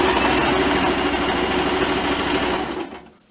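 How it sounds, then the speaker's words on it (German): Sewing machine running steadily, stitching two layers of fabric together for a drawstring sports bag; a loud, continuous mechanical whir close by that cuts off near the end. "Unter die Nähmaschine. Festnähen."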